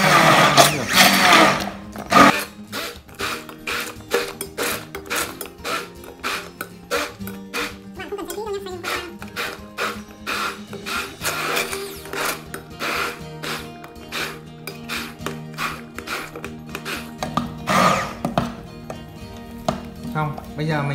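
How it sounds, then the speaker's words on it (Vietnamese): A blender grinds tomatoes for homemade pizza sauce, a loud, choppy motor whir in repeated bursts and pulses throughout. "mình sẽ lấy máy xay, mình xay phần cà chua này các bạn nhé"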